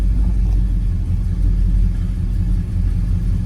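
A 1979 Ford F150 Ranger XLT 4x4 pickup with a big block 400 V8 running at a steady idle, a loud continuous low rumble with no revving, and no voices.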